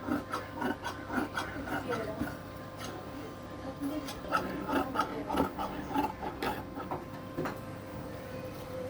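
Scissors cutting through saree fabric to shape a blouse piece, heard as repeated close rasping snips and fabric rustle at a steady, unhurried rhythm, fairly quiet, with no talk.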